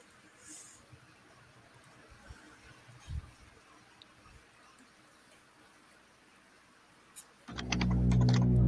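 Faint, scattered clicks of typing on a computer keyboard sit under quiet room noise, followed by a sudden loud, dense burst of sound near the end.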